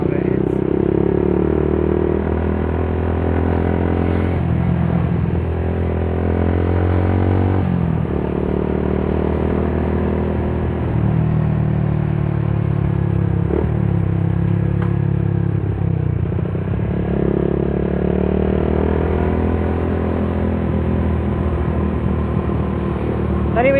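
A Yamaha Vixion motorcycle engine running steadily throughout a ride, loud and close with a continuous droning hum that shifts in pitch as it changes speed, plus wind rush and occasional clatter.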